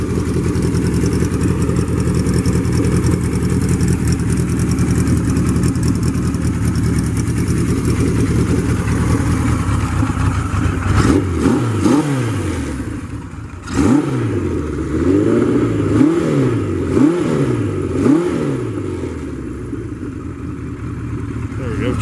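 A 1974 Kawasaki Z1 motorcycle engine warms up on choke, a steady close idle that later gives way to blips and rising, falling revs, with faint voices underneath.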